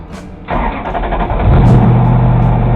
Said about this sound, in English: I had to rev her so much I couldn't get the car in gear.